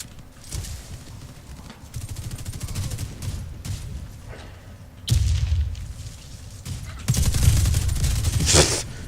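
Assault rifle gunfire in the shooter game Warface comes in bursts of rapid shots with dull booms, growing louder toward the end over a low background rumble. No one speaks.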